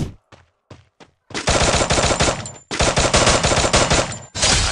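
Gunfire in the Free Fire mobile game running on an emulator: a few short, separate shots, then long loud bursts of rapid automatic fire close up, broken by brief pauses.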